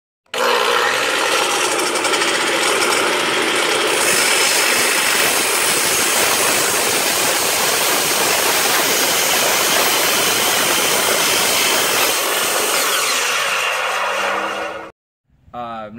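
Fine-tooth saw blade cutting through an aluminum tub glass door track, a loud, steady, harsh grinding whine running about fourteen seconds before cutting off abruptly.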